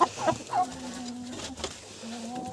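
A large Cochin hen clucks close by in a poultry yard in a few short, uneven bursts, with soft low calls in between.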